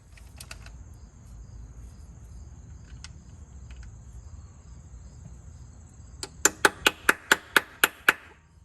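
Eight sharp metallic hammer taps in an even rhythm near the end, loud and close, during timing chain work on a VW 2.0T engine, after faint scattered clicks over quiet background.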